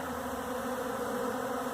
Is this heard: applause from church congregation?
no